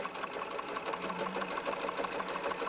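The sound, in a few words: sewing machine top stitching a shirt band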